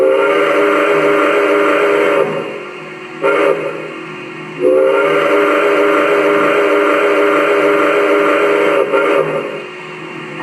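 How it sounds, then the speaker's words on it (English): MTH DCS model train steam whistle played in a railroad crossing sequence: loud, close, sustained chime blasts, two long and a short then a long, with brief gaps between. "if you're wanting to simulate a railroad crossing whistle sequence, you can do that yourself with the remote by pressing the whistle button."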